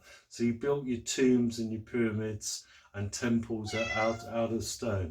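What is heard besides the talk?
cat meowing, pet cat named Persephone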